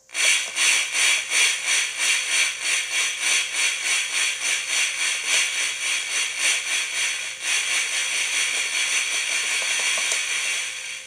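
Steady rhythmic chuffing from a Lionel 8141 toy steam locomotive's sound-equipped power tender, a quick train of hissy puffs that smooths into a continuous hiss near the end, close by.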